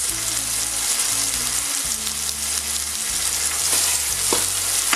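Red onion bulbs sizzle steadily in a hot pan for a turkey leg and vegetable broth dish, with a loud, continuous frying hiss and occasional scraping of stirring.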